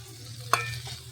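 Fried cabbage and vegetables stirred in a pan for veg pulao: one short scrape of the spoon midway, over a low steady hum, with no talking.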